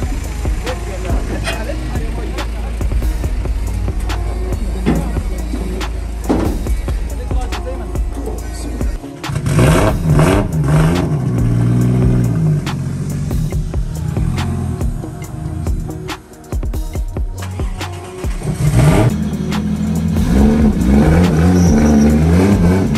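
A tuned car of about 450 horsepower revs hard on a dyno, the engine roaring loud and close, surging and dropping through throttle pulls, with someone talking between runs.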